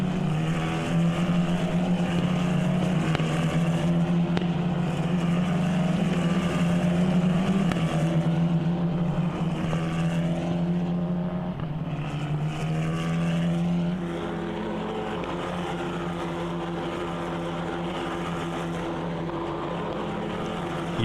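F4 race cars pulling away together at Motortag 2025, their engines forming a loud, continuous droning roar that eases slightly toward the end.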